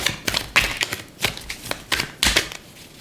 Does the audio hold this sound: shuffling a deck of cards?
yes